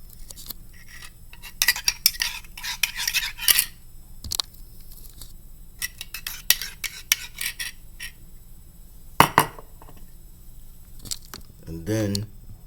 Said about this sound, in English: So I'm mixing up the instant dry yeast into the lukewarm water and mixing it up like this.